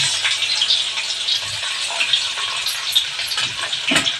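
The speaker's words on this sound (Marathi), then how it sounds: "मंद आचेवर तो लसूण परतून दे" Crushed garlic frying on a low flame with cumin and mustard seeds, a continuous close, fairly loud sizzling hiss with faint crackles and no talk.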